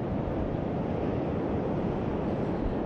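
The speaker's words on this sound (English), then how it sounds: "These 8-foot waves being pushed by these northeast winds are setting the stage" Big eight-foot surf driven by northeast winds pounds the beach at Kitty Hawk, a steady, loud roar of breaking waves and wind buffeting the microphone, with no talking.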